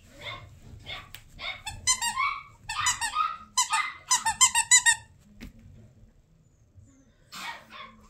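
Several seven-week-old female puppies yip, squeal and whine in high-pitched bursts, close by, with a short quiet gap before one more squeaky yelp.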